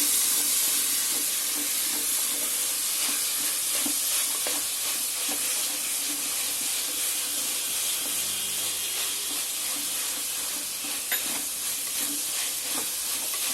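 Chopped vegetables such as carrot, brinjal, okra and drumstick fry in a little oil for horse gram rasam, giving a steady bright sizzle with occasional stirring clinks and scrapes throughout.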